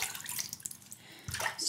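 A 28 mm beehive shaving brush dipped into water, giving faint light splashes and drips with a small burst of wet sound near the end, close and quiet.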